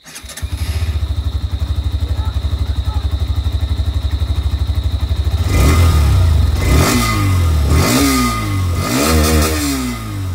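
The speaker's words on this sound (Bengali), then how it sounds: "এবার বন্ধুরা তোমরা চেক করো হিরো এক্সট্রিমের সাউন্ড" A Hero Xtreme 125R motorcycle engine idles with a steady, throbbing thrum, then is revved repeatedly in rising and falling surges, loud and close.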